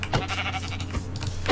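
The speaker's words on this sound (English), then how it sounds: "There's one white sheep down there. Let's go get him." Sheep bleating in the Minecraft video game, a short blocky in-game bleat repeated over steady game background noise, close and fairly loud.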